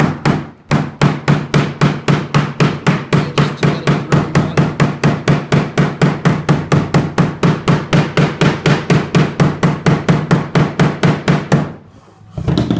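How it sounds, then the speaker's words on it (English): A rubber mallet strikes the wooden edge of a Little Free Library build in a fast, steady run of dozens of loud, close knocks at a regular rhythm, pausing briefly near the end. "I've also got a rubber mallet"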